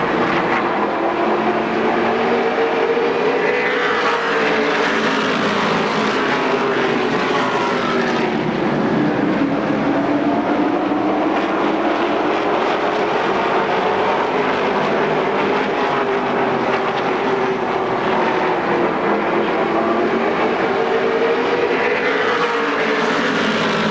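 Stock cars race around the Motordrome Speedway oval, including a Ford 95 and car 31, in a continuous loud roar of engines whose pitch rises and falls in long sweeps as the pack passes and circles the track.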